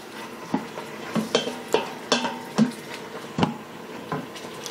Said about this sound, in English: And you can hear it sizzling, I hope.